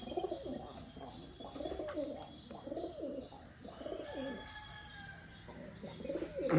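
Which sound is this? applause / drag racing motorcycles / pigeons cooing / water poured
pigeons cooing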